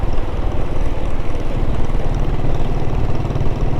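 Pre-war motorcycles on a group ride, a 1927 Triumph and a 1920s Henderson four-cylinder, give a loud, steady engine drone with a throbbing low rumble that runs the whole time, with no talking.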